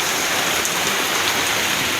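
Heavy rain falls steadily in a dense, unbroken hiss, loud and close throughout with no voices.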